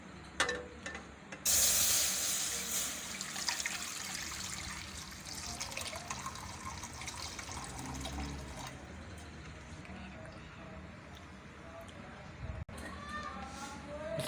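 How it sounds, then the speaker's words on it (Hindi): One litre of milk pours into a karahi for shahi kheer, a steady liquid splash and trickle running under the whole stretch, loud and close, with a sharp clatter near the end. "सबसे पहले कढ़ाई में दूध डाल लेंगे। 1 लीटर दूध हमने लिया है।"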